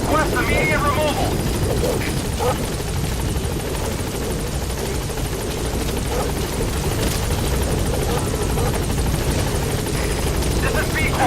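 A support helicopter in the Metal Gear Solid V: The Phantom Pain video game approaches the landing zone, a loud, constant rotor thump and engine roar filling the scene while a radio voice speaks over it.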